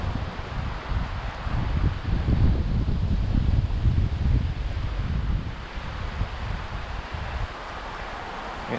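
Steady wind blows across the Madison River during a fly-fishing outing, a continuous low, buffeting rush that swells in the middle and eases off toward the end, with no voices.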